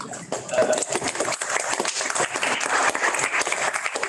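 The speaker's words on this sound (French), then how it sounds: "qui vont l'animer sous vos applaudissements réels et virtuels évidemment" Dense applause from a crowd at a conference fills the whole stretch, steady and loud with overlapping claps, no distinct voices standing out.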